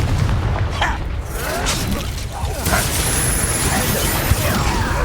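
A Confringo fire spell blasts in a Hogwarts Legacy wizard battle, a sustained loud roar of booming, crackling combat noise with whooshes over a steady dense backdrop and no clear single impact.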